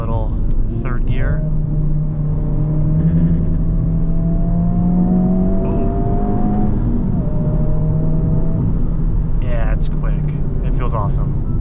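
A sports car accelerates hard in third gear, engine note rising steadily in a long climbing drone before easing off, with people talking in the cabin over it.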